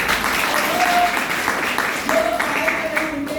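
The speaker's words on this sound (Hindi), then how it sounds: "मैं चाहूंगा फिर से एक बार एपीएल का जोरदार तालियां चाहिए।" Loud audience applause fills a hall during an education seminar on careers and AI courses, a dense, steady patter of many hands running the whole stretch while a voice carries on over it.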